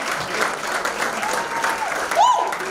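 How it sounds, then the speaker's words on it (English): Comedy show audience applauding a comedian, dense sustained clapping and cheering filling the short stretch at close, even loudness. "One more round of applause for Cameron James."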